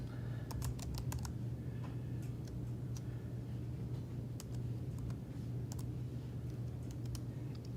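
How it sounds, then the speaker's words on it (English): Light, irregular keystrokes on a Chromebook keyboard as an email address is typed, soft scattered clicks over a low steady background hum. "you need to type in your entire email address"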